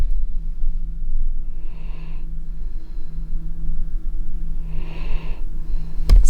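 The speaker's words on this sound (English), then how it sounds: "snoring ASMR" Slow, raspy dog snores, two drawn-out wheezy breaths a few seconds apart over a low steady hum.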